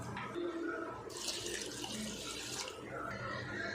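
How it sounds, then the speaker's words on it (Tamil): Water pours onto washed rice in a tumbler to soak for ghee rice, a steady close splashing stream with a brighter gush in the middle, under a quiet voice. "இது ரெண்டு டைம் தண்ணியில் வாஷ் பண்ணிவிட்டு வேறு தண்ணியை ஊற்றிட்டு பத்து நிமிஷம் நம்ம இதை ஊற வச்சு எடுத்துக்குவோம்"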